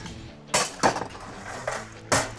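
Ice cubes dropped into a double old fashioned glass, several sharp clinking impacts at uneven intervals, close and fairly loud with no talking.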